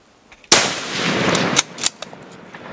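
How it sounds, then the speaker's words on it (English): A single loud, close rifle shot while hunting an Oregon blacktail buck, a sharp crack followed by a long rolling echo, then a few fainter clicks and knocks as the shooter works the rifle. "Okay, shoot him."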